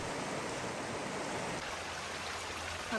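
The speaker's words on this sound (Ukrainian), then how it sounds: "Там в кущах тече ще один потічок з гір." A small mountain stream runs through bushes on a Carpathian slope into the Chorna Tysa river in Zakarpattia, with a steady broadband rush of flowing water at moderate distance and no voices.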